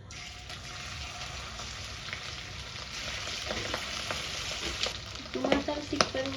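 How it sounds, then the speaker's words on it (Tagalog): Steady crackling sizzle of milkfish frying in hot oil, with a few sharper pops and spatters building near the end. "Prito na natin."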